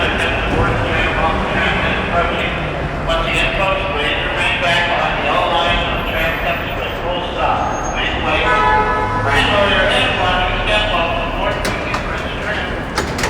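The Mickey and Friends tram at a Disney park rumbles along loud and close, with a steady rolling roar, bell-like chimes and clatter, while many people chatter and talk throughout.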